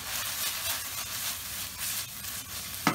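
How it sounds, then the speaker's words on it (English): Ground meat for Lebanese kibbeh, seasoned with salt, cumin and black pepper, sizzles and crackles steadily in a hot pan, a close continuous frying hiss with a short sharp clatter near the end. "continue cooking this until all the meat has browned"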